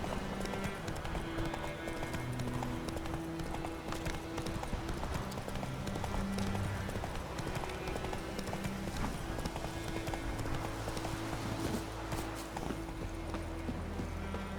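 Horse hooves clip-clopping steadily in the video game The Witcher 3, a continuous rhythmic trot over a game ambience with a faint low hum throughout.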